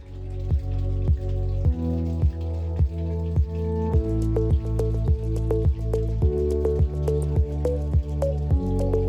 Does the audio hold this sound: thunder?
no